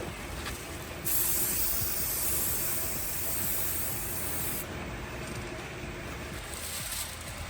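Clear coat sprays onto car headlights in bursts of bright hissing from a spray gun, one long spray of several seconds followed by a shorter one, close and loud over faint background noise.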